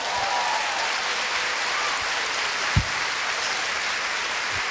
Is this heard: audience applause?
yes